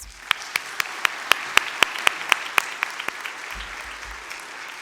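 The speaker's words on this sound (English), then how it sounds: "can we please take a moment to show our gratitude to those who supported us by giving them a round of applause?" Rhythmic round of applause at a school commencement ceremony, a few distinct loud claps in a steady beat over a softer bed of crowd clapping, trailing off near the end.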